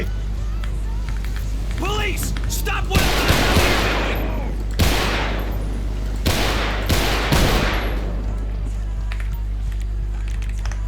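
Gunfire in a GTA 5 police mod: several loud bursts of rapid shots, spaced a second or two apart, over a constant engine hum, with someone speaking in between.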